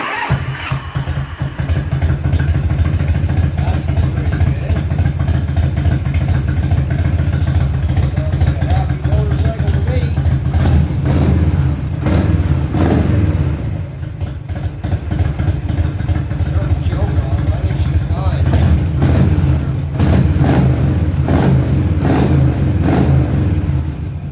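A 1985 Harley Davidson FLHT with an Evolution engine cranks and fires up on choke, then settles into a loud, steady lumpy idle with occasional revs, close by, while someone talks over it.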